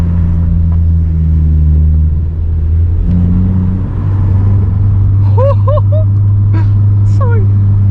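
A Vauxhall Corsa's engine drones steadily from inside the car as it drives, a low constant hum that shifts pitch slightly, with a voice talking briefly over it toward the end.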